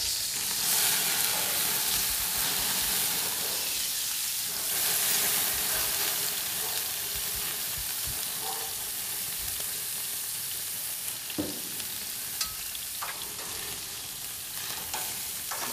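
Food sizzling on a charcoal grill, a continuous close crackling hiss with scattered pops, steady for the whole stretch with no talking.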